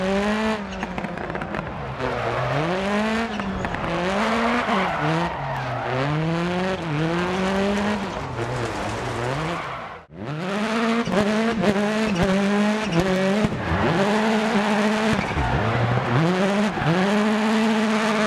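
A rally car in the DiRT Rally video game drives hard, its engine revving loud and rising through the gears. Tires screech in long skids, and there is a brief drop in sound partway through before the engine returns at full volume.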